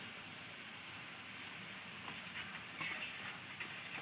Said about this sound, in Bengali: এবার এইভাবে হালকা করে ভেজে নেবো সব কিছু ভালোভাবে।